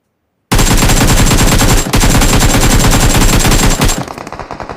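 Rapid automatic gunfire in a video game, a loud continuous burst of shots lasting over three seconds, briefly interrupted once, then tapering into quieter echoing shots.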